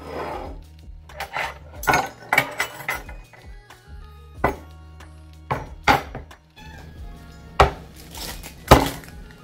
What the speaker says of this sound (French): Donc je prends mes couverts.